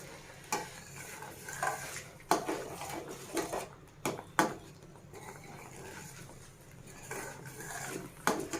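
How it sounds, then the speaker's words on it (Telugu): Upma is stirred in a pan with repeated close scraping and clinks of a spoon against metal, under a soft bubbling and sizzling background, with no voices. "ఇది ఇలాగే కలుపుతూ ఉండాలండి, లేకపోతే కింద మాడిపోతుంది."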